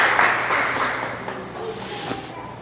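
A church congregation claps during a sermon, dense broadband applause that gradually thins and fades over a few seconds, with faint voices beneath.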